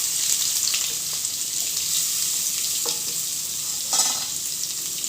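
Small onions and garlic sauté in hot oil in a pan for thuthuvalai rasam, giving a steady close sizzle with a few brief stirring clatters and no talk.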